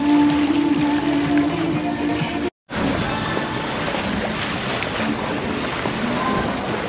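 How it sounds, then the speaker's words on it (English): Steady wind and waves rush past a sailboat off Point Loma, San Diego, in about 12 knots of breeze, a dense continuous roar with a brief dropout partway through and no talk. "Good news, the wind has picked back up. We're almost at 12 knots of wind."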